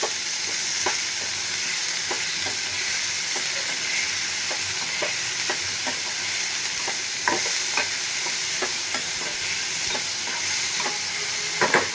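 Sprouted moong beans fry with garlic in a pan while a spoon stirs them. A steady sizzle runs throughout, with regular scraping taps from the stirring and no talk.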